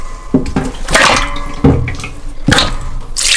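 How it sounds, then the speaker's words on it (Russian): Water splashes and gurgles as it is poured into a pot over pork head meat, loud and close, with uneven bursts and a few knocks of the pot in a kitchen. "И заливаем все водой так, чтобы покрыло полностью мясо."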